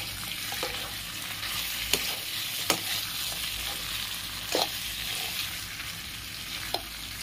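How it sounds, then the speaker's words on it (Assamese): Local chicken fries in a pan with no water added yet, a steady broadband sizzle running throughout, broken by a few sharp scrapes and clacks of stirring. Close and moderately loud, with no talking. "মানে ভাজি আছোঁ, এতিয়ালৈকে পানী দিয়াই নাই।"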